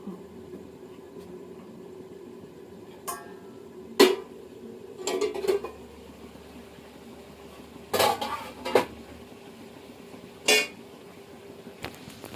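Chicken curry is stirred in a pot with both hands, producing scattered metallic clanks and scraping bursts separated by quiet pauses.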